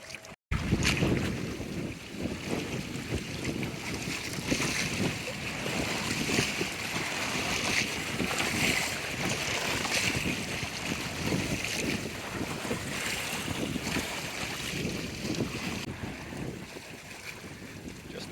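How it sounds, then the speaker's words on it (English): Steady engine drone and rushing wind and water as a sailboat motors out of Tribune Bay into a slight headwind, with continuous buffeting wind noise on the microphone and no voices. "Slight headwind as we motor out of Tribune Bay here"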